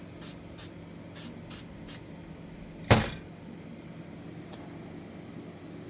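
A single short burst of sealer spray hisses onto a freshly painted wooden wood duck head, preceded by a few faint taps; the hiss is close and stands alone with no talking.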